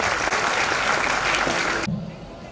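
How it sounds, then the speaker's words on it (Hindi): Audience applause at a school event, a dense steady burst of clapping from a room full of people that cuts off sharply near the end, leaving a quieter hum. "तालियां बजाइए सभी।"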